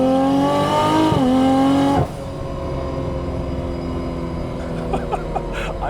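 A Nissan Skyline GT-R on 25 pounds of low boost pulls hard, its engine note climbing steadily before a sharp shift drops it to a lower, rumbling drone, loud and close with no talking.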